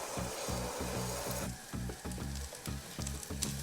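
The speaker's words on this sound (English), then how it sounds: "Fry the garlic" Garlic frying in a pan, a dense sizzle with rhythmic low bubbling pulses, steady and close, no voices.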